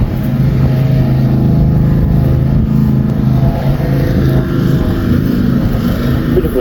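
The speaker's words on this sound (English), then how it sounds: "all I can do is I just mow" A lawn mower running in a garden, a loud, steady engine drone with a rough low hum that varies slightly in pitch, close by and heard alone.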